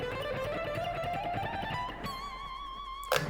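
Guitar playing a scalar run along a single string in a three-steps-up, one-down sequence, a steadily climbing line of clear plucked notes ending in a sustained tone, played alone.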